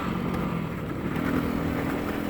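Dirt bike motorcycle riding on the Rybachy Peninsula roads, a steady, constant engine drone heard close and continuous, with no distinct revs or pauses.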